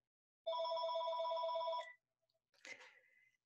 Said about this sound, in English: My phone ringing just at this moment.